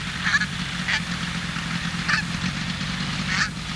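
Geese gather around a landed ultralight aircraft and honk in four separate sharp calls spread across a few seconds, close by, over a low steady rumble.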